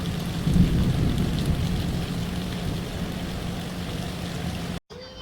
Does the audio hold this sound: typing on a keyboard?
no